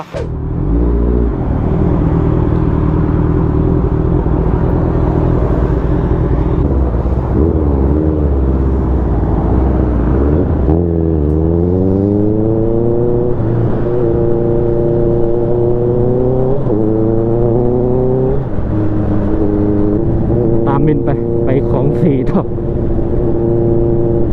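A small two-cylinder Spider X1 motorcycle engine hums steadily while riding, its pitch climbing through rising revs in repeated accelerations, loud and close throughout with faint voices now and then.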